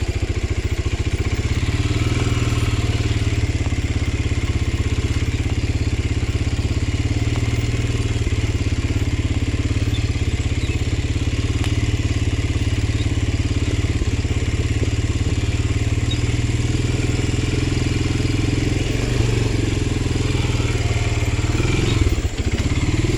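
Off-road motorcycle riding a woodland trail, a steady mid-pitched engine drone running continuously and loud up close, with faint clatter and a brief thump near the end.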